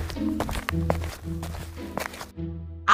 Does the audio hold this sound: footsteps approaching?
yes